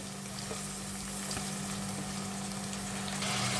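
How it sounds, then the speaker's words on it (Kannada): Ginger garlic paste fries in a pan with tomatoes going in, a steady close sizzle with faint stirring clicks and no voices. "ಇದು ಸ್ವಲ್ಪ ಹಸಿ ವಾಸನೆ ಹೋಗೋ ತನಕ ಚೆನ್ನಾಗಿ ಫ್ರೈ ಮಾಡೋಣ ಇದನ್ನು"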